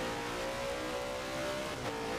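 Race cars corner in a racing video game set at the Spa-Francorchamps circuit during a 24-hour event: a continuous close engine drone with steady tonal whine, briefly shifting pitch near the end as a gear changes, no talking.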